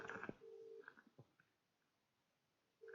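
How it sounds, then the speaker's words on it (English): A telephone gives two short ring tones while a call is placed off speakerphone, with a quiet stretch between them and a third tone starting at the end. "It's ringing."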